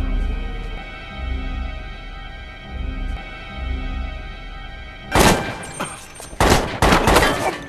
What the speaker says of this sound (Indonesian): Open fire on that man.